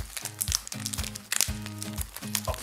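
New 90A roller skate slider wheels are unwrapped from their plastic packaging with close, faint crinkling and crackling in short bursts, and low hums sound between them.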